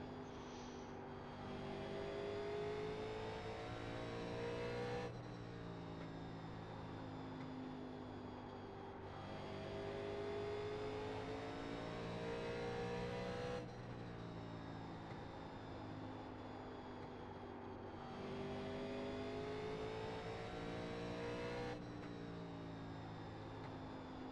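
A 1987 NASCAR stock car engine lapping Bristol in iRacing, a loud steady roar with harmonic whine rising and falling in repeating cycles of throttle and lift through each turn, close and continuous with no talk.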